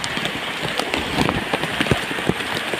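Floodwater running through a street on MPC Road in Caloocan City, a continuous rushing, splashing wash with scattered sharper splashes and a faint engine idling underneath.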